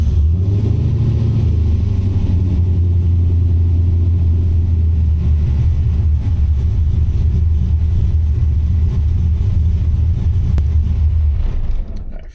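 An LS V8 swapped into a Mazda RX7, running on a Holley Terminator X, holds a loud, deep, steady rumble close up for several seconds before cutting off abruptly at the end.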